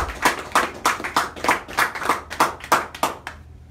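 Clapping at a cultural celebration show: about eleven sharp, evenly spaced claps in a steady rhythm, loud and close, ending abruptly into quiet.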